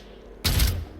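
A single burst of gunfire from XCOM Chimera Squad, a loud close volley of shots lasting under half a second, with a short tail fading afterward.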